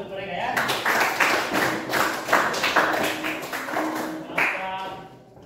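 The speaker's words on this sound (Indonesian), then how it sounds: "Tepuk tangan untuk mereka ya." An audience claps in bursts during a Catholic religious education class, the sharp taps mixed with a teacher's voice speaking over them.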